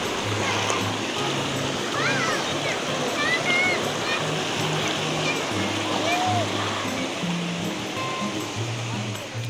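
Curug Daun, a waterfall near Mount Salak in Bogor, gives a steady broadband roar of falling and rushing water that fills the whole clip at an even level.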